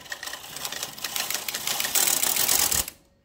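Carriage of an electronic knitting machine sweeping across the needle bed on a tuck-stitch pass, a close, loud mechanical rattling clatter building for about three seconds before stopping abruptly.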